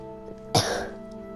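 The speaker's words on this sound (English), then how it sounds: "Sorry when I'm coughing" A single short, harsh cough or throat clear from one person bursts out over a quiet background with a low steady hum.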